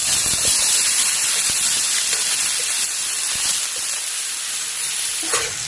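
Continuous hissing and sizzling of chicken frying in hot oil with garlic, ginger and onion for chicken curry, with occasional soft clinks of a ladle, fairly close.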